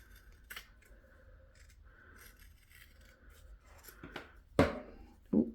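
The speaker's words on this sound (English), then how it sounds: "I'm going to cut all those pieces of fabric together" Scissors snip through several layered pieces of fabric for a festive covered headband, with scattered quiet cuts followed by two louder, sharper snips near the end, no voices.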